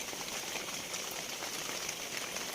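Steady rain falls without a break, a dense, even hiss of drops close by, heard alone with no voices.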